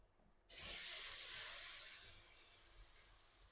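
Water poured into a hot kadai bursts into a loud hiss that starts abruptly, holds steady for about a second and a half, then fades gradually as it simmers down, with no voices.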